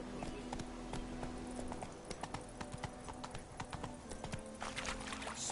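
Steady clip-clop of a horse's hooves in a PS4 video game, a continuous trotting rhythm at moderate level with no talking over it.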